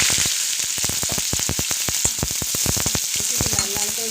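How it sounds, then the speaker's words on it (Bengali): Chopped onion hits hot oil in a wok already tempered with cumin, setting off a close, loud sizzle packed with rapid crackling pops that continue throughout. "এবার দেবো কুচনো পেঁয়াজ"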